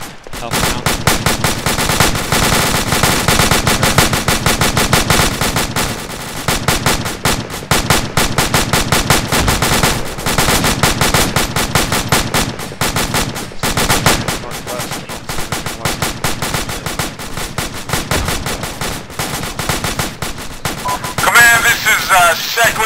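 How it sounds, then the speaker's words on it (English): Continuous rapid machine-gun fire in a military video game, dense bursts of automatic shots rattling almost nonstop, loud and close, with brief gaps between volleys. "I couldn't hear you over the gunfire"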